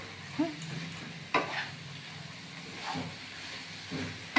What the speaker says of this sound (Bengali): দিয়ে দেব ঘি এক চামচ হ্যাঁ, এইবার আবার নেড়ে দেবো